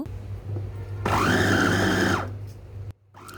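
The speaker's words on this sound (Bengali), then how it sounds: "তো আমি একটা চপারে নিয়ে নিলাম। এখন আমি এটা ব্লেন্ড করে নিব।" An electric chopper whirs into a loud, steady high-pitched motor drone for about a second as it blends a kebab mixture of meat, binding ingredients and egg, then winds down, followed by a brief restart; no talk.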